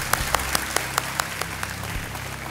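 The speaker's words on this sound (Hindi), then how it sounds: "और जगवंत सिंह जी स्वागत है आपका, आइए तालियों के साथ आपका हम स्वागत करते" Scattered applause from a small TV game show studio audience, with claps landing at a steady rhythm for a couple of seconds, no voices.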